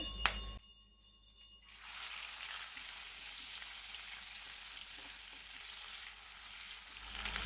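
Dried fish pieces go into hot oil in a pan. After a brief quiet moment, a loud, steady sizzle starts up and keeps going with a faint crackle.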